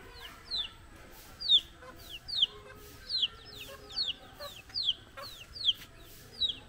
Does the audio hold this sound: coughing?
no